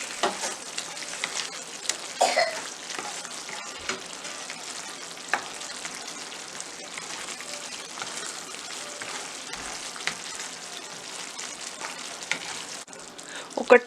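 A green peas paneer curry with a spoon of fresh cream cooks in a pan, giving a faint, steady sizzling bubble with scattered soft pops and stirring clicks throughout, no voices.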